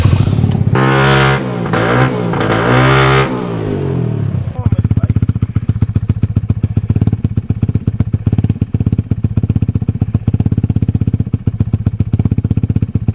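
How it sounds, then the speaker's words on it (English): A kids' dirt bike with a loud aftermarket exhaust pipe starts up and idles, a rapid, choppy, popping putter that stays loud and close throughout. "And this bike got a loud pipe."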